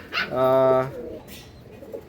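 A single low, throaty pigeon coo swells and fades, with faint background noise before and after.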